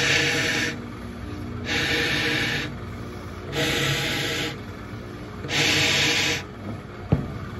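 Air blown in four long breathy bursts through a drilled Yemenite kudu shofar, each a rushing hiss about a second long, separated by pauses, close and moderately loud, with a small click near the end.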